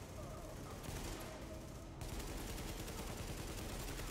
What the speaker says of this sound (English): Shooting in this game is kind of fun